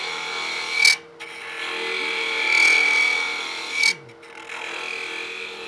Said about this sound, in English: The wider you go, the more squeal you're going to get.